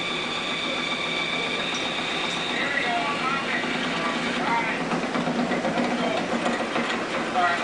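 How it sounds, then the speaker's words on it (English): An old engine is being started up, giving a continuous mechanical clatter and rumble that holds steady for several seconds without dying away. "This was when we first started this engine up."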